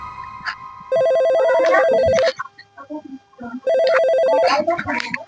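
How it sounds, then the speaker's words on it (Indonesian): A phone rings in two loud trilling bursts with a short gap between, while a voice speaks over the rings. "Telepon si Ujang"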